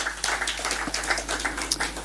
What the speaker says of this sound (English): we applaud you and the National Olympics Committee